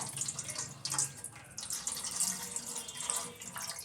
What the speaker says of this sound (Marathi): खाली पाणी घालून घ्या